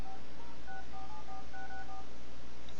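An iPhone 3G keypad sends a quick run of short DTMF beeps as a phone number is dialed, each tone clean and brief against a quiet background.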